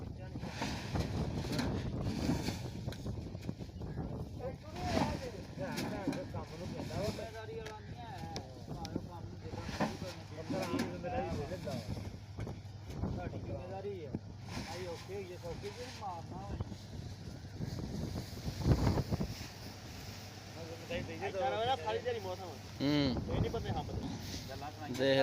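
Cold wind gusts across an open wheat field at harvest time, rumbling and buffeting the microphone almost constantly, while people talk over it.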